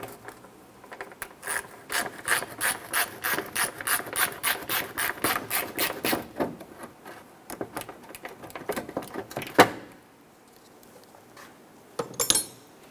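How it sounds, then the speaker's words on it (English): A hand ratchet loosens and removes the bolts of a washer reservoir on a 1997-2006 Jeep Wrangler. It makes a close, rapid run of even clicks, then slower bursts and a few scrapes. "I'm going to go ahead and loosen and remove all 3 of those bolts."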